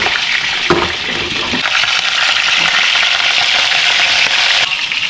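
Pork butt browning in a Le Creuset Dutch oven, a loud steady sizzle and crackle of fat close up, with a brief clatter of stirring near the start.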